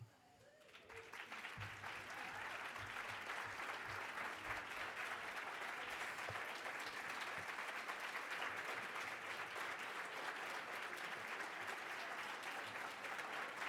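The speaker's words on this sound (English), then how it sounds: "So thank you for that active applause" Steady, sustained audience applause fills a lunch plenary hall at a forum on women and bicycling, rising within the first second and holding at an even level throughout, fairly distant and without voices.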